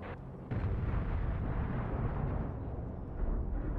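Nuke blasts in the submarine game Barotrauma give a sudden heavy boom, then a sustained deep rumbling roar that stays loud and steady for several seconds.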